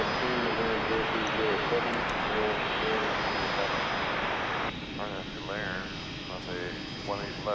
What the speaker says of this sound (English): We're about to see us, an MD-11 taxiing